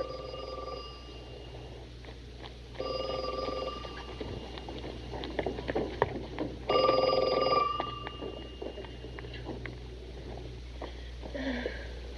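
A telephone rings in short bursts with pauses between, over a low background hum and faint rustling.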